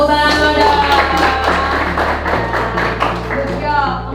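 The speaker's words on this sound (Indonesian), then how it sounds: "Tepuk tangan dulu." A class of students claps together in a rhythmic pattern indoors, with voices sounding over the steady claps.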